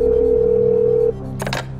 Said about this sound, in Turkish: Çalıyor Timuçin Bey telefonu.